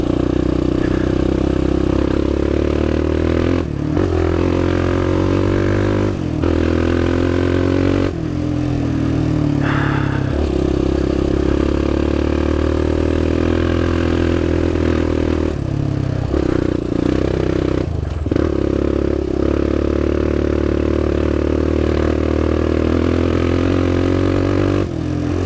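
A sport quad ATV engine runs steadily while riding a fast, flowing trail on the Hatfield & McCoy Warrior Trail, a loud continuous drone with brief dips and clattering bumps, no voices.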